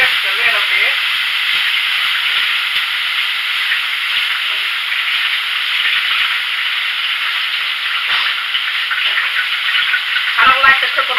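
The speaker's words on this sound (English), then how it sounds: "we're going to take these bean sprouts and we're just stirring them up until they kind of cook down just a little bit" Bean sprouts stir-fry in a hot pan with a loud, constant hiss of sizzling that holds steady throughout, with occasional faint clinks of stirring.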